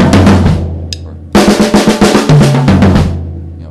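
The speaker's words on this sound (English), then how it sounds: "Now when you do triplet drum fills" A drum kit plays triplet fills: a crashing opening hit rings out, then after a short pause a fast, even run of close, punchy drum strokes rolls on for about two seconds and fades, with no talking.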